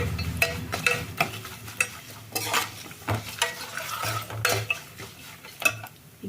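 Grated coconut frying in oil in a pan, a soft sizzle under frequent metal spoon clinks and scrapes as it is stirred, close and irregular, with no talk.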